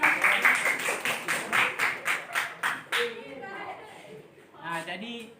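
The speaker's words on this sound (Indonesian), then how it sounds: "Tepuk tangan dulu." Students in a classroom clap together in a steady rhythmic pattern of about a dozen even beats. The clapping stops and children start talking.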